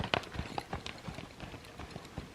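A horse trots in circles, with soft, uneven hoofbeats thudding close by in a quick rhythm over a short stretch.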